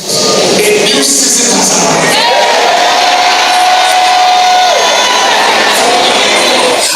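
A huge church congregation cheers loudly and continuously at the Dunamis International Gospel Center's Glory Dome in Abuja during a crossover service welcoming New Year 2021, with roaring voices and whoops filling the whole stretch.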